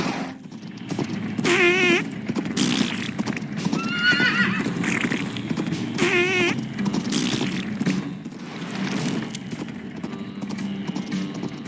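An old horse in the video game American McGee's Grimm neighs loudly twice in clear whinnies, with steady hoof clip-clop and a busy game soundscape continuing throughout.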